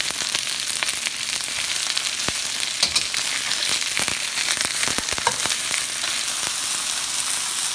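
Pieces of beef for Mongolian beef brown in a hot wok, giving off a steady, loud sizzle with bursts of spitting and crackling pops, close up and with no talking.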